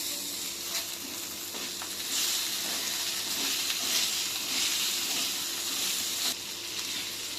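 Sliced okra hits a pan of hot oil seasoned with turmeric and sizzles in a steady, close hiss that swells slightly after a couple of seconds and carries on evenly throughout.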